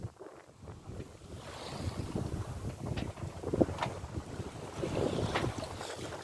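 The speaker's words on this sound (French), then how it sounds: "Les voiles sont hissées, grand voile à fond, génois à fond, vitesse 4 nœuds 6, 5 nœuds, en route pour la Jamaïque." A sailboat runs under full mainsail and genoa at around five knots on the way to Jamaica, with wind buffeting the microphone over a constant rush of water and waves along the hull.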